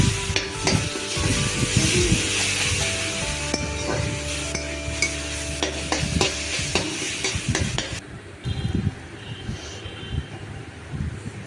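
Tomato-based masala with sauce sizzles in a pan while a spoon stirs and scrapes it steadily, cooking for a potato and soybean curry. The frying is close and continuous, easing and turning quieter near the end.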